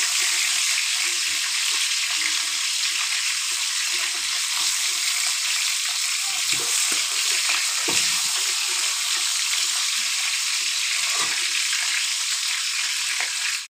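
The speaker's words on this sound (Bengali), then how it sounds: "এবার কড়াইতে সরিষার তেল দিয়ে মাংসের টুকরাগুলো পিসগুলো দিয়ে দিলাম।" Chicken pieces fry in mustard oil in a wok with a loud, continuous sizzle, with occasional stirring knocks and scrapes.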